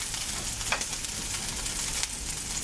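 Beef chunks browning in hot oil in a pot for a Yankee beef stew, giving a steady broadband sizzle with a couple of brief stirring scrapes, close and fairly loud throughout.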